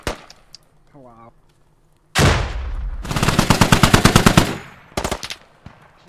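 A .50 cal machine gun fires in the Squad video game: a loud sustained burst of rapid, evenly spaced heavy shots, followed by a brief second burst, with quieter game sounds before it.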